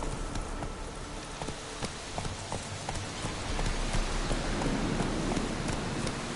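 Roach, the horse in the Witcher 3 video game, trots with a steady, rhythmic clip-clop of hooves over a soft, rain-like ambient hiss.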